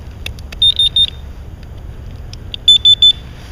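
Two radiation counters are switched on, giving a few faint clicks and then two bursts of three sharp, loud electronic beeps, the bursts about two seconds apart against a quiet background with no talking.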